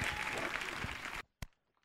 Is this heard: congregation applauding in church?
yes